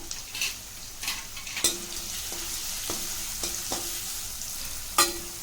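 Carrots and beans stir-fry on high flame for vegetable fried rice, a soft continuous sizzle broken by several sharp metallic clanks of a spatula against the pan.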